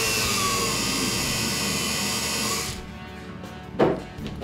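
A power polisher whirs steadily as a silver ring is polished at a silversmithing bench, then winds down and stops, leaving a couple of faint knocks.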